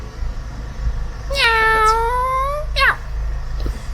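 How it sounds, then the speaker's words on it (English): A cat in Cyprus gives a long, drawn-out meow close by, followed by a shorter second meow, over a low background rumble. "You want to see the kitty, right? The cat."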